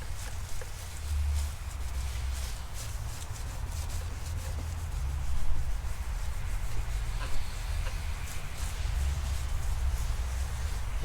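A sanding pad rubs steadily across a 2004 Mercedes CLK500 headlight lens, a soft continuous rasping swish with gentle strokes, close and fairly quiet.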